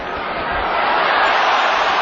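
A big arena crowd at a Pacquiao versus Morales boxing match roars loudly and steadily, a dense swelling wall of cheering that rises slightly toward the end.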